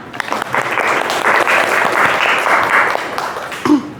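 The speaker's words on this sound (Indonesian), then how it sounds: "tepuk tangan untuk kita semua" Classroom applause from a group of students and teacher, a dense, steady round of clapping at close range that holds evenly for several seconds before tapering.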